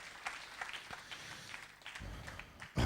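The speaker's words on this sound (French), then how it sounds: "Applaudissons un peu Jéhovah" Church congregation clapping for Jehovah during a Thursday service; scattered, uneven handclaps from a modest group, fairly distant, ending with a louder burst.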